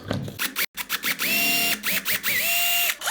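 Small drill boring a hole while an 18650 battery pack is being assembled: close, repeated whining motor bursts that rise and settle in pitch with short gaps between, and no talking.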